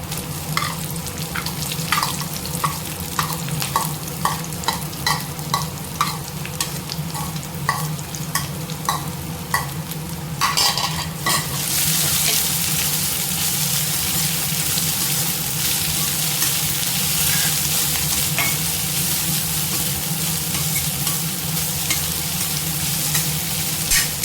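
Capsicum and onion stir-frying with ginger and garlic for a chapati side dish: steady loud sizzle with repeated spatula scrapes and stirring clatter early, then a denser continuous frying hiss after more vegetables go in.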